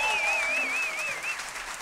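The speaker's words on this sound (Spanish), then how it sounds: "un aplauso para los muchachos" Applause breaks out during a Christmas special, a short wash of clapping hands under a sustained whistle-like tone, fairly loud and steady throughout.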